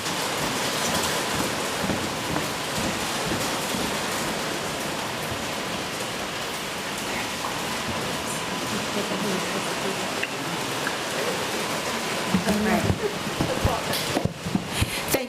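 Steady, heavy rain hisses continuously for the full stretch, a dense even patter with a few slightly louder spatters near the end.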